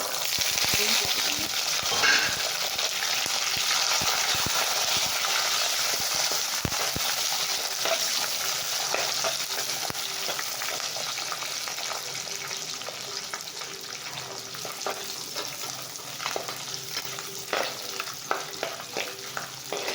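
Shallots and garlic for a garlic thokku sautéing in a pan, a steady close sizzle with scattered scraping stir clicks, continuing evenly throughout with no talk.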